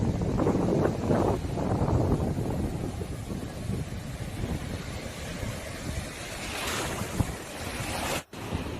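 Sea waves wash onto Lal Kakra beach at Baguran Jalpai near Digha at dawn, a continuous rushing surf mixed with wind noise that swells again toward the end.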